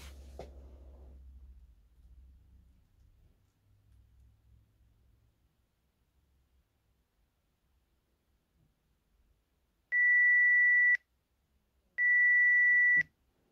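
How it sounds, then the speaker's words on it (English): A Jeti radio-control transmitter running a LUA timer app sounds two loud, steady low-tone beeps, each lasting about a second, with a short gap between them after a stretch of near silence. "should be a lower tone beep, which to my hearing is actually a little bit louder"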